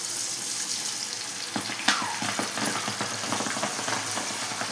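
Crispy corn frying in hot oil, a steady loud sizzle and hiss with scattered pops and crackles running throughout.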